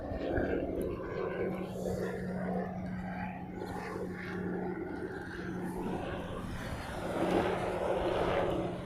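Airbus A321neo arriving at Honolulu from LAX, a soft, distant engine drone under a steady low hum, swelling slightly near the end.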